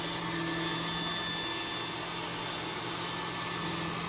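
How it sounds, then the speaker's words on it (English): An iRobot S9+ robot vacuum cleaner drones loudly and continuously, a constant whirring motor with a faint high whine, no voices. "But this is a lot louder. It sounds like an actual vacuum."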